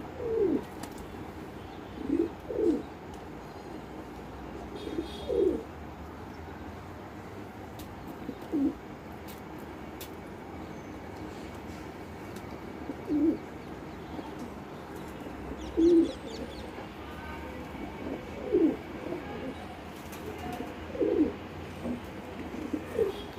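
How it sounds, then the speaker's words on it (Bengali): Domestic pigeons at a home loft, fed from a bucket and drinking from a basin, give soft low coos repeated every couple of seconds over a quiet background. "আমার খুব ভালো লাগে এই পায়রাটাকে দেখতে"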